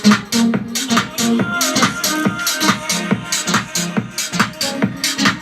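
Music with a punchy beat and vocals plays at good volume through speakers driven by a homemade amplifier, with sharp percussive hits and a steady rhythm.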